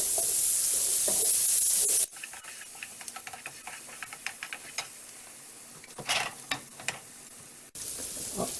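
Onions sizzle in a frying pan: a loud, close hiss at first, then it drops to quieter scattered crackles and pops, and the strong sizzle returns at the end.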